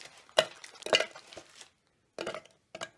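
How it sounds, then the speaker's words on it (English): Frozen banana chunks go into a blender jar as a few separate hard knocks and clatters, with short rattling bursts between quiet gaps, close and moderately loud. "Now you're going to place your frozen bananas into your blender"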